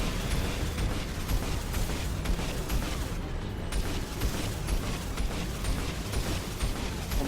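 Homing missiles bursting in Mass Effect 2 combat: a steady, dense wall of explosive rumble and crackle with small repeated pops layered on top, loud and continuous from start to finish with no pauses.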